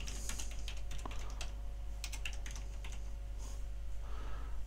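Clicks of a computer keyboard being typed on, a short quiet burst of irregular keystrokes over a steady electrical hum.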